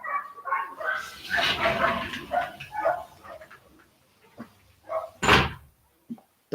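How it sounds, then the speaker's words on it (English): Dogs barking and scuffling nearby in a quick burst of sharp barks and snarls, then a pause followed by a few more isolated barks and a thump, moderately loud with no talk. "Dog's always fighting."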